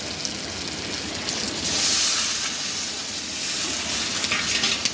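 Water poured into a pan of sizzling chicken curry, a loud, dense hiss and sizzle that swells sharply, eases, then rises again, close and continuous with no talk.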